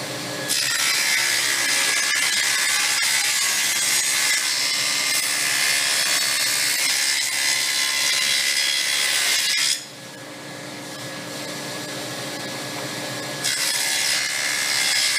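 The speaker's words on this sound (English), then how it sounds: "we've got our dado set in the table saw" A table saw fitted with a dado set cuts into wood, set a quarter inch from the fence and just over 3/8 inch high, for the tongues of a frame-and-panel back. It gives a loud, steady whine from about 0.5 to 10 seconds, then drops and rises again.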